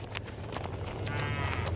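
Beef and milk cattle on a farm give a low, drawn-out moo at close range against a steady outdoor background, lasting the whole short stretch without talk.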